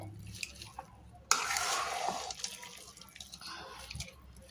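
A sticky homemade tamarind pickle with sweet mango leather is stirred and mixed, a faint wet squishing and scraping up close that swells briefly then settles into quieter, irregular movement.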